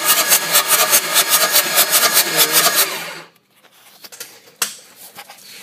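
A 2006 Ford 6.0 Powerstroke diesel with hydrolock cranks over with its injectors out, a loud, rhythmic whirring churn of the starter close by that stops abruptly, followed by quiet and a single clank.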